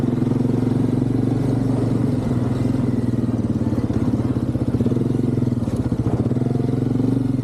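An ATV quad engine drones steadily and loud throughout while riding hard off-road, with a continuous low rumble, rapid pulsing and occasional clatter from the machine.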